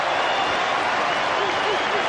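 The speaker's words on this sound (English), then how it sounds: "Listen to the crowd." A large cricket stadium crowd roars steadily in reaction to a dot ball during a tense semifinal, a loud, continuous wall of massed voices and noise with faint commentary mixed underneath.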